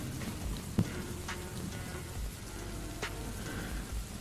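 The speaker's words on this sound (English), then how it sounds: "Have you all streamed with the rain sound, or is it only recent things I started watching you?" Steady rain patters on a surface during a live stream, a soft continuous hiss with scattered drop ticks and a single sharp tap, heard alone without talking.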